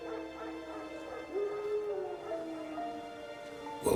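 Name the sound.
wild dogs barking in the video game The Witcher 3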